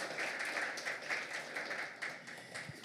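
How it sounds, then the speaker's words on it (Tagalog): A church congregation applauding during a sermon, a dense, steady wash of many hands clapping together at moderate loudness for a few seconds. "Can we give the Lord an awesome clap of praise?"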